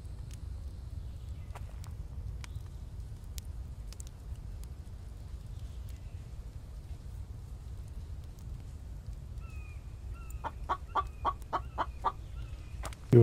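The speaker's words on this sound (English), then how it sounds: "Chicken" Chickens cluck in a survival video game called The Infected, a few soft, scattered clucks over a low crackling fire before a quick, close burst of clucking near the end.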